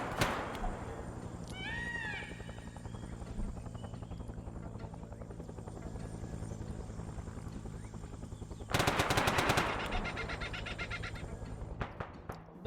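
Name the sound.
ammunition cook-off and gunfire in Arma 3 video game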